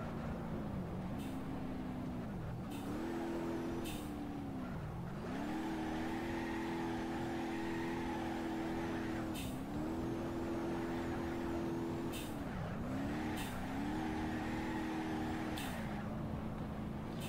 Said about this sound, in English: I'm sorry if I'm drifting bad, because it's been a long time I didn't drift in this game